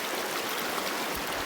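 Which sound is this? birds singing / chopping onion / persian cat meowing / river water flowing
river water flowing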